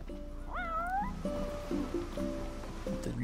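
A cat in Final Fantasy XV at a seaside spot gives a clear, rising meow, followed by soft game music with gentle ambient noise underneath.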